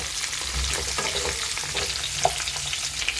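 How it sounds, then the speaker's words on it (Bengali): Vegetables for shukto, green banana, sweet potato, eggplant and drumstick, fry in a pan with a steady close sizzle and occasional stirring scrapes, with no voices. "ভাজা করে নেব।"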